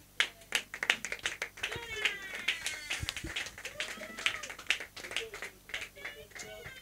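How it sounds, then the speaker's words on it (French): Scattered, uneven clapping from an audience at a stand-up comedy show welcoming a comedian, individual claps close and distinct, mixed with cheering voices and a low background hum. "On va applaudir pour Jonas, mesdames et messieurs."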